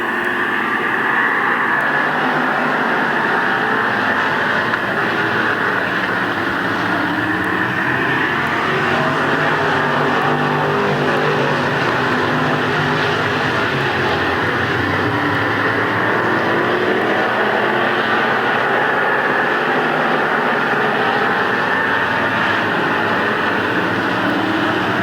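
Stock cars racing at Midvale Speedway, a dense, steady roar of engines heard from a distance, droning without break throughout.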